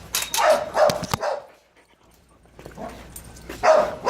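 Several dogs bark and yip in short bursts during a behavior session with other dogs, loud and close, with a brief quiet gap before more barking.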